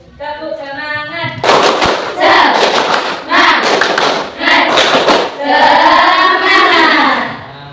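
A classroom of students performs the rhythmic tepuk semangat spirit clap, loud groups of quick claps in several bursts, with chanting voices between and over them.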